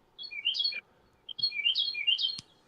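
A bird chirps in two bright, warbling phrases close by, separated by a short pause and ending in a sharp click, over a faint low hum with no voices.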